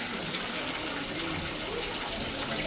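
Sacred spring water at a pilgrimage stop in Pithoragarh on the Kailash Mansarovar route, flowing in a single steady stream, heard as a loud, continuous splashing rush close by with no talking.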